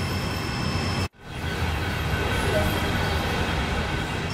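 A train in the Train Sim World 2 video game rumbles steadily with a broad, loud rolling hum, broken once by a brief abrupt cut before the continuous noise resumes at a constant level.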